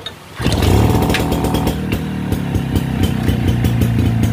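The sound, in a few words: used Japanese small gasoline engine running during test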